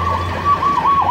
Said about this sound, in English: Wow, sirens.